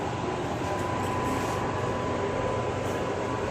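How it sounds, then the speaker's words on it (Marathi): A Vande Bharat train stands at a station platform on the Nanded route, filling the space with a steady, loud, broadband rumble and hum of its running systems, with no talking. "बघू शकता हे ट्रेन इथली."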